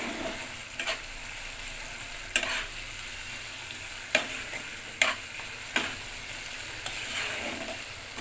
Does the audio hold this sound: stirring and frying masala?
yes